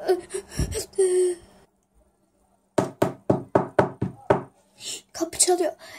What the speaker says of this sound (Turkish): Kapı çalıyor.